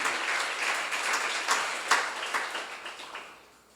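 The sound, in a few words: audience clapping in church seminar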